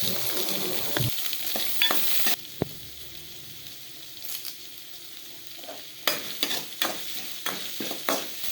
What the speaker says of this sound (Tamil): பச்சை மிளகா, வெங்காயத்தை போட்டு நல்லா வதக்கிக்கணுங்க. கூடவே கருவேப்பிலையும் போட்டு நல்லா வதக்கிக்கணும்